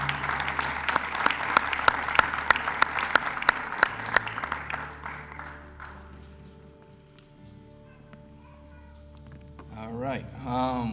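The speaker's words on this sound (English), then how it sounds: "Let's give a round of applause for Tyrone and Adrian accepting on behalf of Sean Marshall." Applause from an audience at the 2013 Rialto Hall of Fame ceremony: dense clapping for about five seconds that thins out and fades, with a voice starting to speak near the end.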